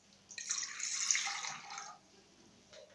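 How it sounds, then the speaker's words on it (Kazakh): Water poured into the bottom of a pot for making homemade hydrolat gives a bright, splashing trickle lasting about a second and a half, close and fairly quiet, then tapering to stillness. "Ыдыстың түбіне алдымен суымызды құйып аламыз."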